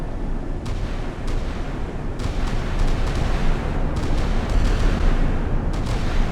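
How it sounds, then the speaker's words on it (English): Naval guns blasting away in the naval combat game Sea Power, a dense continuous rumble of heavy gunfire with repeated sharp shots cutting through, loud and sustained throughout. "The full complement of guns just blasting away."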